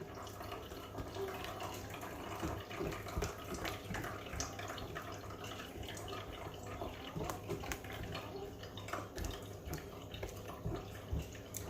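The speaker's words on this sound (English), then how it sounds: "I'm going to rinse the blender and add the half cup water that I have into it" Water runs steadily while a blender jar is rinsed at a kitchen sink while almond milk is made, a continuous faint splashing wash with no talk.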